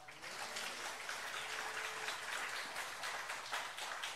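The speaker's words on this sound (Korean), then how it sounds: "우리 하나님께 진정 감사의 박수 올려드리면 좋겠습니다" A congregation in a Korean church applauds, a steady rain-like wash of many hands clapping at an even level, with no talk over it.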